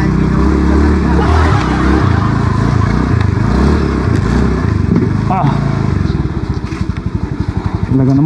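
Motorcycle on a rural road near a bridge under construction, engine droning and revving close by, ending in a rapid putter as it slows.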